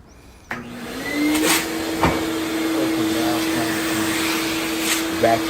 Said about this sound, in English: Vacuum the interior of the dryer.